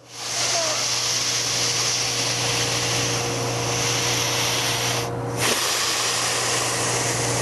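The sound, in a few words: exhaling then inhaling through the nose, diaphragmatic breathing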